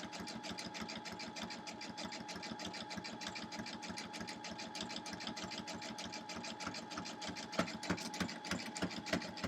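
A sewing machine runs steadily, stitching an appliqué onto a quilt block with a rapid, even, continuous pulse close by, then a few louder separate stitches near the end as it back-stitches to lock the seam.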